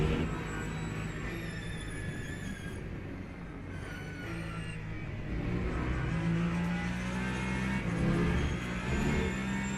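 Steady, droning engine note from a race car in a racing video game, held at a constant pitch with slight rises as it accelerates, continuous and fairly loud throughout.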